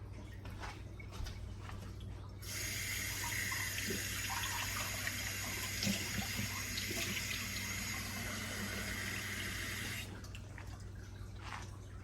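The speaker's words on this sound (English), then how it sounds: "So I'll use this to measure out the cup of water." Tap water pours steadily into a liquid measuring cup for about eight seconds, starting and stopping abruptly, close by and moderately loud over a quiet kitchen background.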